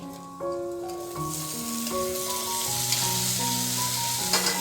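Carrot, bean, potato, pea and capsicum pieces fry in a pan for coconut pulao, giving a steady loud sizzle with stirring scrapes throughout and a few tonal clinks and hums over it.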